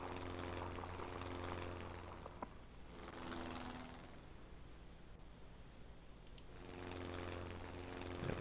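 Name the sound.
enemy aircraft in video game Sid Meier's Ace Patrol: Pacific Skies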